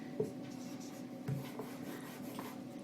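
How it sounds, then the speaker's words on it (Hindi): Chalk or marker strokes writing a line of text on a classroom board, a few soft scratchy rubs spread over a couple of seconds, faint and close with no talking. "मैं एक लाइन से लिखता हूं"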